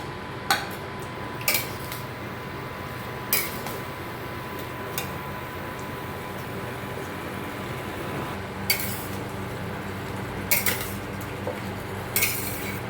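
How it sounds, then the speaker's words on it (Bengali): Chicken and potato pieces being stirred and fried down in a pan: a low, steady frying hiss broken by scattered clinks and scrapes of a spatula against the metal, no talking. "নেড়ে নেড়ে ভালো করে কষে একদম মাখা মাখা টাইপের করতে হবে"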